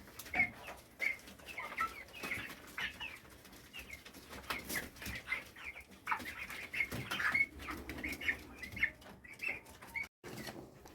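Broiler chickens, about three weeks old, crowd around their feed, soft scattered clucks and peeps mixed with pecking and shuffling, quiet and close with no talk.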